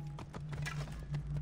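Horse hooves clip-clop in quick rhythmic beats in the video game Assassin's Creed Origins, a steady moderate-volume gallop with faint game ambience.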